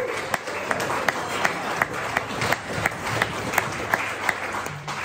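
An audience at a club presentation gives a round of applause for a bronze medal: a continuous wash of clapping with regular louder claps standing out throughout, fairly close and steady.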